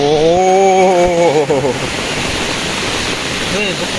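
Floodwater rushes loudly in Kokkada after three hours of heavy rain, a dense, continuous roar close by, with a voice briefly audible at the start.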